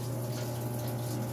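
Steady rush of water flowing through the fill valve of a Whirlpool washing machine, a continuous close hiss with a low hum underneath, no voices.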